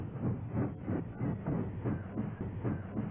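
A steam locomotive hauling freight rolls into a yard with a steady rhythmic chugging, regular muffled pulses about twice a second at moderate distance, with no voices.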